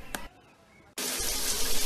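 A water tap turns on after a short click and near-silence, then runs in a steady, close, bright stream of water pouring into a sink.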